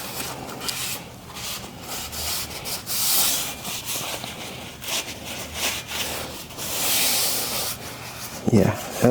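A flaky rag scrubs dirt off a part of a neglected Chevy C10 pickup, a close, continuous rough rubbing and scraping that swells and eases in strokes, ending with a short sharper knock.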